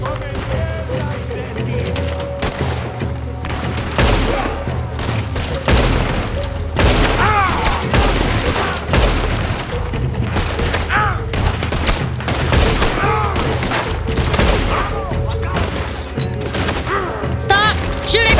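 Gunfire in Red Dead Redemption II comes as dense, continuous volleys of loud booming shots mixed with crashes and game sound. A player's voice is heard over the shooting at times.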